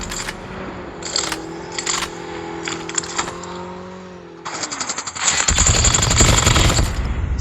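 Gunfire in the mobile shooter Call of Duty Mobile: scattered shots early, then dense rapid automatic fire building loud toward the end over steady game background tones.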